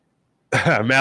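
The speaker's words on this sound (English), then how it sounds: "definitely a pot cough" After a moment of silence, a single loud, close, rough cough bursts out and trails off.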